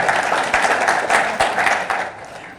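Applause from a seated audience at a club general session, a full burst of many hands clapping that holds steady and then begins to taper off toward the end.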